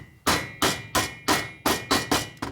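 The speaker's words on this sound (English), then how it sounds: "So the seal just fits down inside of here, holds it, and you just beat it in." Seven sharp metallic hammer taps at a steady rhythm, driving a valve stem seal down onto the valve guide of a 1977 Harley XLCR 1000cc ironhead Sportster cylinder head, close and moderately loud, each tap ringing briefly.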